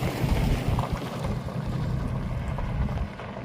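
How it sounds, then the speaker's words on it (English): A vehicle rolls up from behind on a dirt road in an RV park outside Silver City, New Mexico, giving a steady low rumble mixed with gusty wind noise across the whole stretch. "I got a vehicle coming up behind me here."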